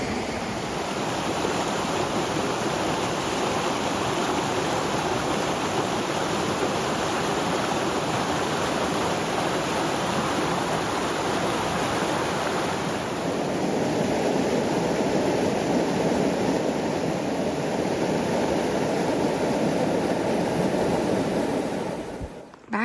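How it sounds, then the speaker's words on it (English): A waterfall at a campsite in Utah pours steadily and fairly loud throughout, a dense continuous rush of falling water with no voices. "Let's sit here with this pretty waterfall for a minute."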